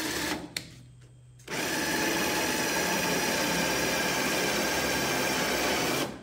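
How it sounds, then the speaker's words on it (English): A power drill starts briefly, stops, then runs continuously with a steady high-pitched grinding whir, loud and close, drilling out spot welds on a Toyota T100 truck bed. "I'm going to drill out all these spot welds"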